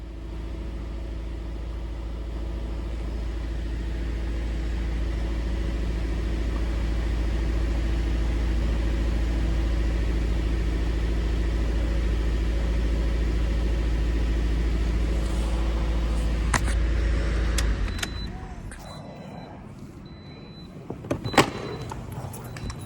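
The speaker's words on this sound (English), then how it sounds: "I wish I could find fuel trim, because it's idling awful high." A car engine idles high and misfires, holding a steady, close droning hum for about seventeen seconds before cutting out, followed by a few sharp clicks and knocks in a quieter space.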